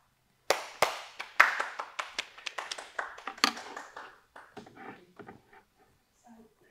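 An audience claps after a talk on nutrition, with sharp, separate claps that start loudly, come in an uneven burst, and thin out to a few scattered hands over about six seconds.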